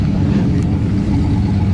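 A street racing car engine rumbles loud and steady, a deep continuous drone held close throughout.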